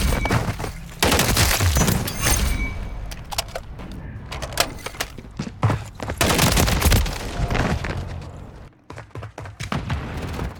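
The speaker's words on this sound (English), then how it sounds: "There's a lot of recoil on it, or spread, as far as the shooting." Rapid gunfire in the video game Modern Warfare 3, dense bursts of automatic shots and sharp cracks clustered close together, loud with brief pauses and mechanical clicks between volleys.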